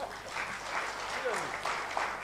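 Audience clapping for a professor at the CHOICE Project dissemination workshop, a moderately quiet, diffuse patter of hands spread across the room with voices talking over it throughout.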